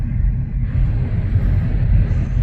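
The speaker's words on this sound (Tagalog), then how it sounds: "Traffic." Low, steady rumble of city road traffic in Cebu, with engine drone and passing vehicles heard from inside a moving car, continuous and fairly loud with no voices.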